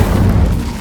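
Incendio fire spell in the Hogwarts Legacy game on PS5: a brief, heavy booming whoosh of flame, loud and full from the start and easing off slightly at the end.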